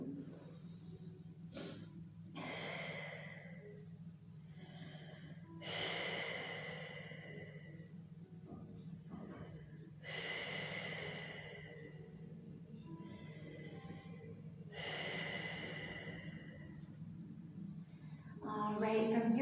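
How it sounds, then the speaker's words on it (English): Slow, deep breaths in and out during a yoga child's pose, with several long, soft airy cycles at an even pace over a steady low background hum and no talking. "Take a few deep breaths in and out."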